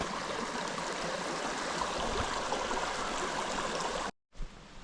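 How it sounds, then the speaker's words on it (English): The Mayo River rushes over rocks in a steady, close, full-bodied flow, ending in a brief cut to silence before the water sound resumes. "The water picks up a little bit right here."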